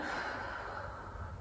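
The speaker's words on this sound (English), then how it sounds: "Breathing in" A single long breath drawn in, airy and steady, close and fairly quiet, with no talking.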